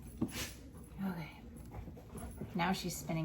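A dog whimpers and pants in short bursts while spinning after its tail indoors, faint and close, with a person talking over it.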